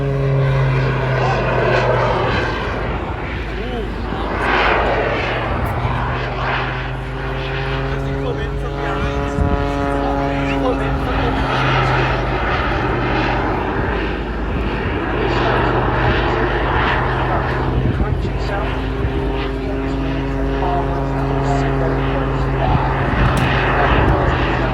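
Jets roar over the Southport Airshow crowd in long passes, a loud sustained rumble that rises and falls as aircraft sweep by. Voices carry faintly beneath the noise.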